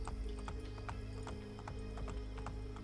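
Rhythmic horse hoofbeats clip-clopping at a steady galloping pace in Assassin's Creed Brotherhood, loud and continuous over a droning game background.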